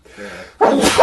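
A person sneezes loudly and abruptly, a short, explosive burst after a brief quieter intake, set during a live tabletop roleplaying game session.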